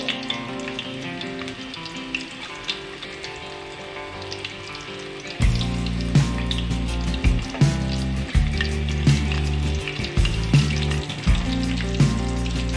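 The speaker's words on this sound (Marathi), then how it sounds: "अशा प्रकारे मी यामध्ये पीस टाकून घेतलेले आहे आणि चांगल्या प्रकारे तेलामध्ये फ्रायसुद्धा होत आहे" Chicken 65 pieces deep frying in oil in a kadai make a soft bubbling sizzle at first, then a louder dense crackle as more pieces drop in, with periodic spoon or ladle taps, and no voices.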